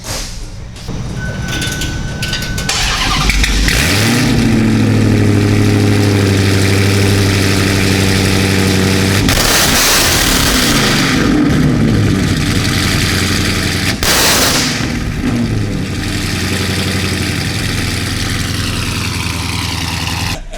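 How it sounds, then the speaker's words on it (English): A Dodge Demon's engine cold-starts with a loud crank and catch, then settles into a heavy, steady idle that rumbles on continuously, with brief rises in pitch as it warms. "Start it up for you. Yeah, let's get us a cold start here."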